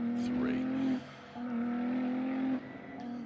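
A Ferrari Challenge race car warming up on the Spielberg circuit, its engine holding a steady high drone that drops briefly twice as the driver lifts and then returns, loud and close, with a commentator talking over it.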